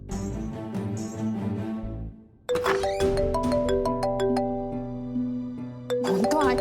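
A telephone chimes in a sitcom-style home scene: a tonal ringtone melody plays loudly, pauses briefly, then resumes with sustained bell-like notes and sharp accents, with no talking.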